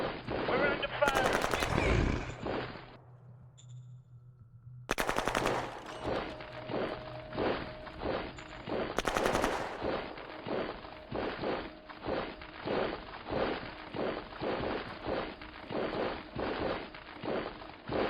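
Rapid machine-gun bursts and gunshots from the strategy video game Shadow Empire, loud and repeated, with sharp volleys breaking out at intervals over a steady battle din.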